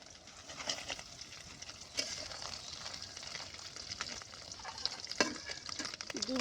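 Eggs sizzling in a frying pan, a faint steady crackle with occasional sharp pops and scrapes of stirring, heard alone without talk.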